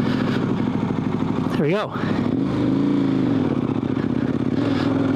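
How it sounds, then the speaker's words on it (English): Adventure motorcycle on Michelin Anakee Wild 50/50 tires pulling away from a stop in first gear up a hill, engine revving loudly and rising in pitch, dipping briefly at a shift-like pause then droning steadily, with someone talking over it. "I'm gonna go put this thing into first gear, kind of go from a stop right here"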